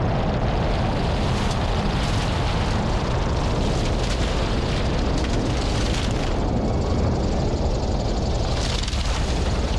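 A heavily loaded small airplane landing on a long, muddy, wet high-altitude airstrip, with a loud continuous roar of engine and rumbling rollout throughout.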